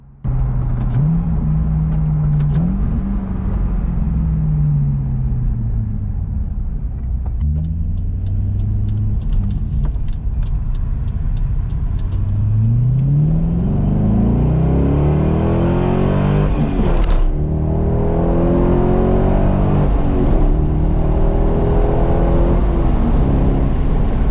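A C5 Corvette with an aftermarket axle-back exhaust rumbles deep and throaty at idle, then revs up repeatedly, the engine note rising and falling loudly up close.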